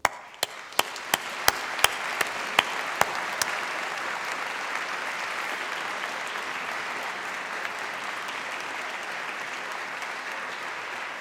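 Graduates at a university engineering ceremony applaud their families and friends, beginning with a handful of distinct separate claps that quickly swell into sustained, dense applause from a large hall audience, holding steady to the end.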